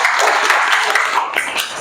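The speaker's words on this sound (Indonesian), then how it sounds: "Tepuk tangan untuk kita semua." A classroom of students claps together in a short, loud burst of applause lasting under two seconds, fading slightly at the end.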